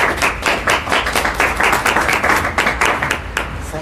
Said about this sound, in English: So with rousing applause, let's welcome Peter Kent to the stage.